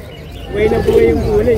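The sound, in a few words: pigeon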